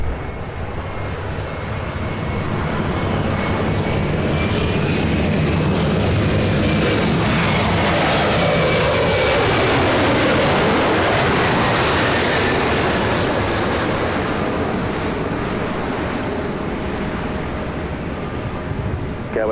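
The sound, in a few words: jet airliner landing on runway 24 left at LAX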